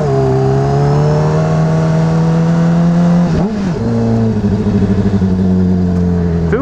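A Honda CBR600RR sport motorcycle engine runs loud and close with a steady droning note, briefly drops and stumbles in pitch, then settles back into a sustained rev.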